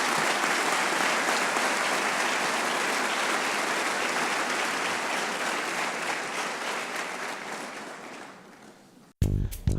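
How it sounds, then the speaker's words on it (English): A room of guests at a 2018 LCEF scholarship reception gives the recipients a long, warm round of applause that stays full for several seconds, then gradually thins and fades before a sudden loud cut at the end. "Let's have a nice warm round of applause for these recipients."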